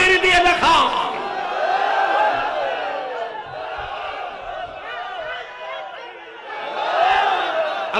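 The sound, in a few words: audience responding with takbir chant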